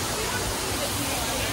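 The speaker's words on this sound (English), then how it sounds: "Look. There's a waterfall." Rushing waterfall at a cultural center in Hawaii, a steady broadband roar that runs the whole moment, with a crowd murmuring throughout.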